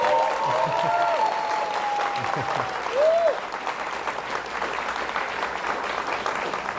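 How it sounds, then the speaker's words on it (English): An audience at a national youth bouldering championship claps steadily for several seconds, a sustained spread of hand claps through a large indoor venue, with a brief voice heard early on. "Big round of applause to Yoshiko."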